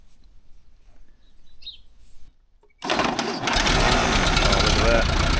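An 80-year-old Allis Chalmers tractor engine cranks and fires after a brief silence, then settles into a loud, steady close idle that fills the rest of the moment, with faint speech and a bird chirp before it starts.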